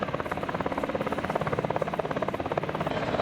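A UH-60J long-range rescue helicopter at an air festival, its rotor beating in a rapid, steady rhythm with loud, continuous engine whine, close and unbroken throughout.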